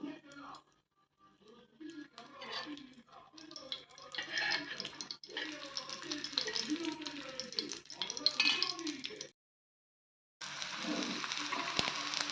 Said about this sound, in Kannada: ಒಂದೊಂದಾಗಿ ಹೀಗೆ ಬೇಯಿಸಿ ಚೆನ್ನಾಗಿ ಬೇಯಿಸಿ